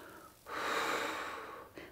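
A person doing a seated chair balance exercise, moving from a leg and arm hold into warrior one, draws one long, close breath lasting over a second that fades near the end, with no talking.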